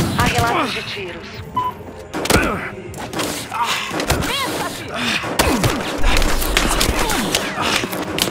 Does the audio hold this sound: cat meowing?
no